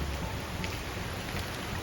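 Steady rain and wind from Hurricane Milton fill the air in a dense, constant hiss with no breaks, loud and close around the listener.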